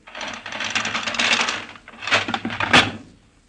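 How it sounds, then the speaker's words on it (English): A door being opened with a wooden rattle and creak, clattering handling noises in a few bursts ending in a sharper knock, close and fairly loud with no talking. "It sounds like someone was opening the door."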